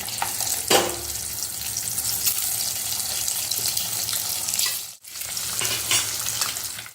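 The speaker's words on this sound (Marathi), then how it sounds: "अंडा फ्राय नक्की करून घ्या, म्हणजे ते खायला अगदी खमंग लागतं." Eggs fry in a pan with red masala, onion and salt, giving a steady close sizzle. A brief scrape comes near the start, with a short break around the five-second mark.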